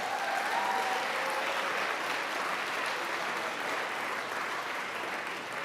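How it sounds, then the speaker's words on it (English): A crowd claps steadily in warm, sustained applause at an arts awards ceremony, even and unbroken from start to finish. "Can we give them a round of applause?"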